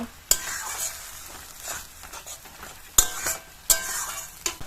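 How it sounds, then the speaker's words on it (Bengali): Spice masala with Kashmiri chilli powder and cumin powder sizzling in oil for a rui fish curry, with a continuous frying hiss broken by several loud spatula clanks and scrapes against the pan, close up and without talk. "সব মশলাগুলো এবারে খুব ভালো করে কষিয়ে নেব"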